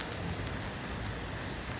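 Steady rain falls outdoors during a thunderstorm, a dense continuous hiss of drops on surfaces filling the short stretch at an even level, with no voices or distinct thunder claps standing out.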